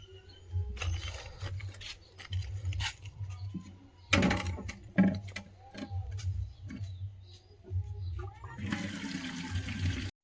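Household supply water running and being collected in a container at home, a steady continuous gush with splashing and bursts of louder flow, birds faintly audible, no talk.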